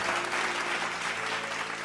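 An audience at a church service claps steadily and loudly, a dense continuous patter of many hands with no pauses.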